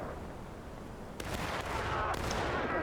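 Musket gunfire in a War of Rights battle, a dense roar of distant volleys and scattered shots rolling continuously, with sharper, louder reports breaking in partway through.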